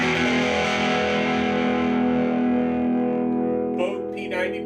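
An electric guitar with P90 pickups rings out through a Monoprice Stage Right amp with a touch of its reverb, a sustained, slightly distorted chord decaying slowly before a couple of short picked notes near the end.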